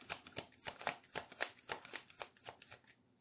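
A deck of cards is shuffled for a pick-a-card reading, giving a close, soft run of quick riffling bursts in a steady rhythm, with no voices over it.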